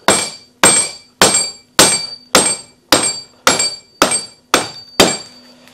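An oak peg is hammered through a hole in an oak timber frame for a barn: ten hard, ringing, evenly spaced blows about every half second, each with a bright metallic ring that fades quickly.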